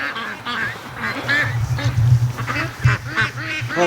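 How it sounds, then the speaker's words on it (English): Free-range ducks down by a swamp quack in a busy, overlapping chorus of repeated nasal calls, fairly close and loud, with a low steady hum beneath. "there's a whole bunch of duckies down there"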